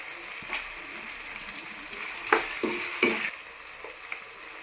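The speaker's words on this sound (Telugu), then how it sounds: "టమాటా ముక్కలు కూడా వేగిపోయినాయండి" Tomato pieces for egg rice fry in a hot pan, a continuous close sizzle with several bursts of louder hissing and stirring scrapes.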